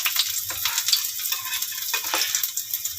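Rice boiling in a cooking pot, a close, steady bubbling and sizzling with small irregular pops and a soft low rumble underneath.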